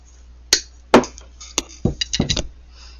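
Sharp metallic taps ring out close by as metal wire is hammered: several spaced single strikes, then a quick cluster of lighter hits near the end.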